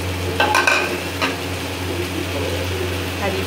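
A spoon stirs chicken jalfrezi fried rice with fried egg in a pan, giving a few light scrapes and clinks over a steady low hum and soft sizzle.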